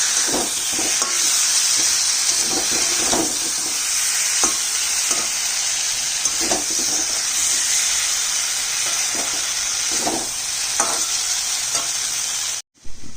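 Steady loud sizzle of taro stolons frying in a pan, with gentle scraping strokes of stirring scattered throughout, continuous and close.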